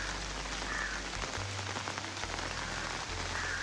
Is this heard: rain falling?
yes